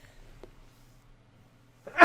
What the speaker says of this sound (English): I have to sneeze soon